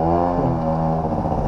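A motorcycle engine on a road in Morocco, running loud and close with a steady harmonic drone that shifts pitch partway through as the throttle changes.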